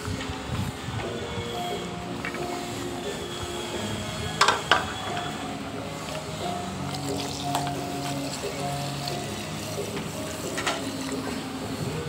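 Water poured into a simmering home-raised rooster curry in a clay pot, a steady wet pouring and bubbling wash with a few brief splashy bursts, close and moderately loud.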